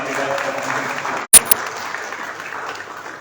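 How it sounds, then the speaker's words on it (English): Indoor crowd applauding at a press conference for the Deafblind Convention India 2023 in Goa, a thick, continuous clatter of clapping that cuts out abruptly and is followed by a couple of sharp clicks and quieter room noise. "Let's do a big round of applause for Caritas."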